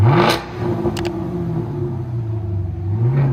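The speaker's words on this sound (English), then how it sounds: "2018 Chevy Camaro SS. Flowmaster out. That sounds so good." A 2018 Chevy Camaro SS with its 6.2L V8 and Flowmaster exhaust rumbles close and loud, its pitch swelling and falling in revs while a deep idle burble holds between them.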